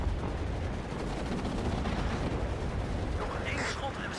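Artillery fire in the video game WARNO: a dense, rumbling barrage of low booms and crackling blasts that runs throughout, with a brighter burst near the end.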